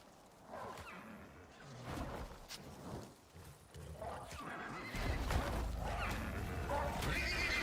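In the survival game Icarus, a horse under attack by a wolf pack neighs and whinnies loudly over its clattering hooves, with growing commotion and a heavy low rumble in the second half.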